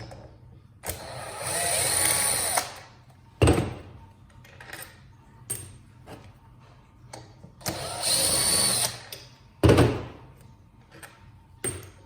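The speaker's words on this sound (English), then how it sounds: "Looks to be 5 screws up front. So let's remove those now." Power screwdriver driving out T20 Torx screws from a Kirby Ultimate G vacuum cleaner, heard as two sustained whirring bursts of a few seconds each, with sharp clicks and knocks of handling between them.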